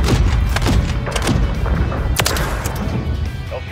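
Heavy gunship fire in Modern Warfare 3 rolls on as a loud, rumbling barrage, with dull booming thuds and a few sharper cracks over a constant low roar.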